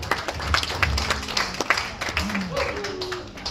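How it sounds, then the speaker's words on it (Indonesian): An audience claps at an Indonesian health talk about abdominal tuberculosis, a moderate wash of scattered applause with murmuring voices underneath, fairly quiet and diffuse. "tepuk tangan"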